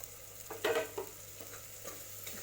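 Dhaba-style spicy chicken curry with chopped green chillies being mixed in a pan, with a soft background sizzle and a couple of brief spatula scrapes and stirs, fairly quiet and close, no talking.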